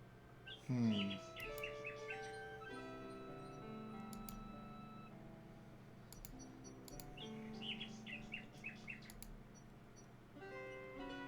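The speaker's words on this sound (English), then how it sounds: "Alexander winds the mechanical nightingale." Mechanical nightingale in the King's Quest 6 video game playing its tune after being wound: quiet, tinkly synthesized melodic phrases with bright chirping trills and a ticking clockwork rhythm underneath.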